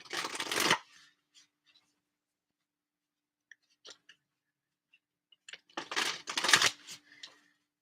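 A chakra tarot deck is shuffled by hand: a crisp riffle opens, then sparse soft card taps and slides, then a second longer flurry of riffling, close and clear in a quiet room.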